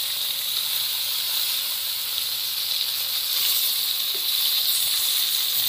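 Rohu fish frying in a hot wok give a steady, dense hiss that holds evenly throughout, with no voices over it.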